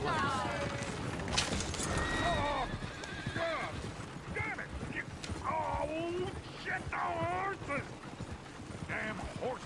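Several horses whinny and neigh repeatedly over clip-clopping hooves, loud and close, with a voice talking faintly underneath, in the video game Red Dead Redemption 2.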